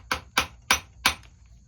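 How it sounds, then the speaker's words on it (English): A hammer taps a jaw bone four times in a steady rhythm, each strike a sharp, close, dry knock followed by a short pause, with no voices. "we can take our hammer again"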